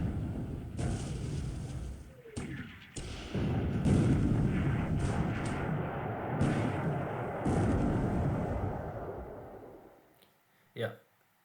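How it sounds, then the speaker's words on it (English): In the War in the Pacific naval strategy game, heavy flak guns fire in repeated booming bursts and rumbling volleys, fairly loud and close, with a voice speaking over them. "now I'm using only my heavy flak."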